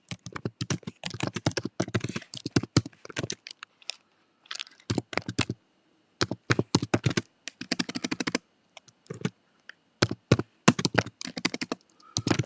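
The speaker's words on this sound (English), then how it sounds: "the way I do it is I type it into my search" Close, crisp computer keyboard typing comes in rapid bursts of clicking keystrokes, broken by short pauses, with a search being typed.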